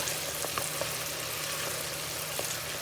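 Chicken wings frying in hot grease, a steady, dense crackle and sizzle with small pops, close and even throughout with no voices.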